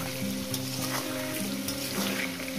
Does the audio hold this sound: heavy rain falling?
no